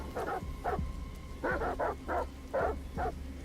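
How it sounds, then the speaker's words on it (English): Dogs bark in the Detroit: Become Human video game, several short sharp woofs in uneven bursts, moderately close over a low steady background rumble. "There's a dog coming up."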